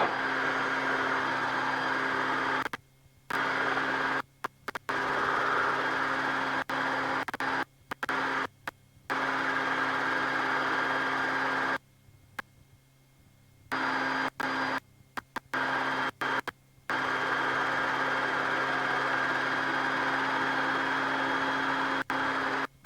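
Rotorway helicopter engine holding a hover, a steady loud drone with a constant whine, repeatedly broken by short dropouts and gaps where the sound cuts away.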